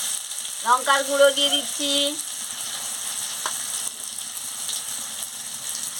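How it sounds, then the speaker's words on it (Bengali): Poppy seed paste frying with spices in a pan for an okra curry, a steady close sizzle running throughout, with someone speaking briefly over it near the start. "পোস্ত বাটা দিয়ে দিচ্ছি, দিয়ে ভালো করে ভেজে নিচ্ছি।"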